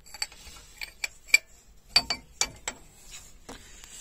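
A wrench works at loosening the oil pressure switch on a Renault Super 5 engine, making sparse, sharp metallic clicks and clinks at irregular intervals, close and fairly quiet, with no voices.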